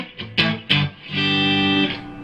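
Electric guitar notes plucked through channel 1 of a Vox AC100 amp with an effect pedal, a few short hits followed by a sustained, buzzing chord.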